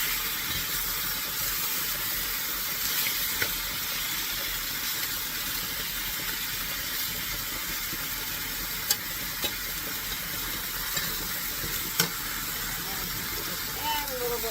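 Spiced boneless pork chops frying in a cast iron skillet, giving a steady broad sizzle and hiss at close range throughout with a few faint clicks and an occasional soft voice underneath.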